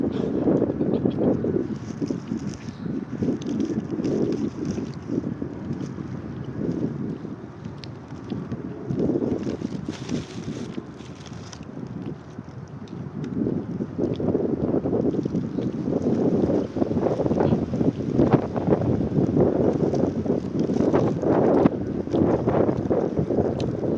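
Strong, steady wind roars and buffets the microphone in a park for the whole stretch, swelling and easing in gusts, with no voices.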